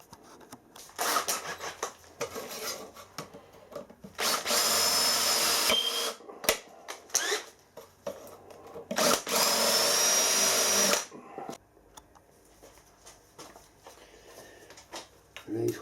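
Power drill boring into a brass back piece and then driving fasteners on a milling machine: two long, loud, steady whining runs of several seconds each, separated and followed by short bursts, clicks and handling noise up close.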